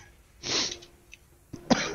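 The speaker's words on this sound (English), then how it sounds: "normally I mute for coughing" Two close, sharp coughs from one person, a longer burst followed after a pause by a shorter, harsher one, with quiet breathing between and no talking.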